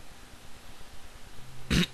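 A single short cough bursts out near the end from a German gamer playing a horror game, close to the microphone over a quiet, faintly humming background.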